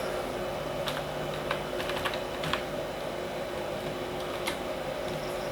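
Keys tapped on a computer keyboard while text is entered into a presentation slide, a loose run of soft clicks over a steady fan-like hum, no voices.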